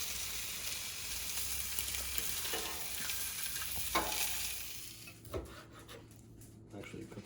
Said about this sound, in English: Oh, he's doing a fried egg.